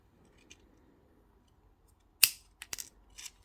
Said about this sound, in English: I'm going to cut these wires so they finish at the back.